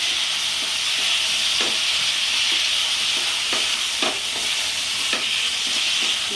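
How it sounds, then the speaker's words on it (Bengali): Potatoes and spice mixture with a little water fry hard in a pan over a full gas flame, a loud continuous sizzle broken by repeated scraping stirs. "আলু আর মশলা একসাথে আমি কষতে থাকবো"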